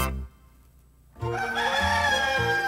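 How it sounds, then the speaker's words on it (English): A rooster crows in an animated 1986 Mother Goose story. After a short quiet gap it gives one drawn-out, harmonic cock-a-doodle-doo, loud and close, with no other sound. "Cock-a-doodle-doo."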